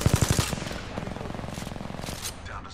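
Apex Legends gunfire, a fast rhythmic automatic burst up close at the start followed by lighter continuous rapid shots that fade slightly, with no voices.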